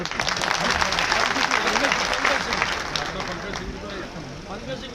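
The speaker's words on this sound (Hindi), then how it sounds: "इसलिए मैंने कहा उनके लिए ताली" Audience applause at a party felicitation event for a chief minister, a dense, loud wash of clapping that holds steady and slowly tapers, with voices and crowd murmur mixed beneath.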